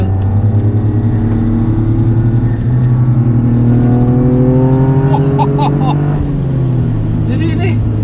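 Toyota GR Yaris at full speed on the Mandalika circuit, its engine droning loud and close with rising and falling pitch through gear changes, while people talk over it inside the cabin.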